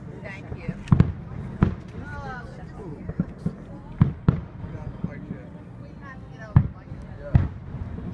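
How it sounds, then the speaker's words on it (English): Fourth of July fireworks burst at a park show, with a string of sharp booms and pops spaced irregularly, some louder than others, heard from a distance under crowd chatter and nearby voices. "Big fireworks."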